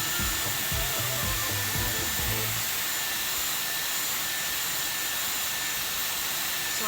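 A Dyson Airwrap hair styler blows a steady, loud stream of air while drying hair, a constant broadband whoosh with a faint high whine running throughout, plus some brief low rustling near the start.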